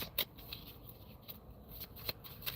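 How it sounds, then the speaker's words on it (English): Tarot cards being shuffled by hand, giving soft, faint papery riffles and light flicks in a few brief bursts against a quiet room. "We might need to shuffle again."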